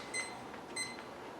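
A workout timer gives two short, faint electronic beeps about half a second apart, alone in a quiet room.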